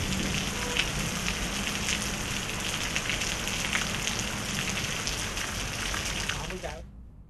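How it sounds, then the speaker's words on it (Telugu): Steady, dense unseasonal rainfall in Prakasam district, Andhra Pradesh, pattering on a surface, a continuous hiss of drops that cuts off abruptly near the end. "ప్రకాశం జిల్లాలో పలు చోట్ల భారీ వర్షాలు పడ్డాయి"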